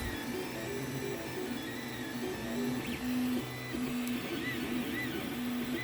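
A 3D printer runs with its nozzle temperature turned up to 255, giving a steady, low mechanical hum with faint whirring stepper tones that rise and fall over the hum, close by and with no talk.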